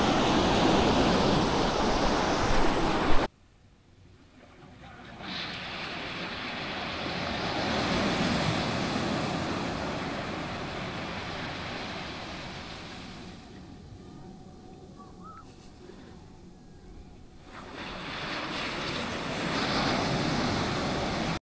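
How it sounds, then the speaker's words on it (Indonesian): Ocean surf rolling onto Nusa Dua beach in Bali, a steady broadband wash that swells and fades over about twenty seconds, with a distant aircraft drone blending in and no talking. "Wah ombak, ombak, ombak."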